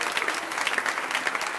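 Crowd applause from the VR disc golf game Off The Chains Disc Golf, a steady dense clapping roar at moderate level lasting about a second and a half with no talk over it.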